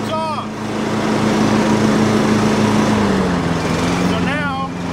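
Cub Cadet XT1 riding lawn mower running with its cutting deck engaged, a loud, close, steady engine drone that shifts pitch partway through as someone talks over it.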